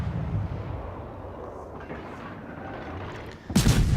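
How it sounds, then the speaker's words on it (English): German V-170 destroyer's guns fire in World of Warships, a loud booming salvo bursting in near the end after a stretch of low rumbling battle ambience. "Let's just get these guns back trained on target, and we can carry on just firing away."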